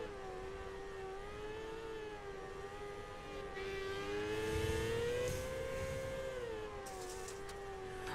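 A micro sprint race car laps Limaland Motorsports Park, its engine a steady, droning whine that rises and falls in pitch as it circles, heard from a distance and swelling slightly midway.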